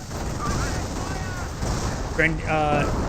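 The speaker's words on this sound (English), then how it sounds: "Good hits there, but great mortar hit there as well." Explosive mortar and anti-tank rocket hits from a Company of Heroes battle, with bursts of game gunfire and impacts over a constant noisy battle bed and commentary talk.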